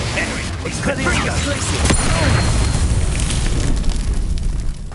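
Spell explosion from the Confringo fire curse in Hogwarts Legacy, a sustained fiery rumbling boom lasting several seconds, loud and dense, with a voice speaking over part of it.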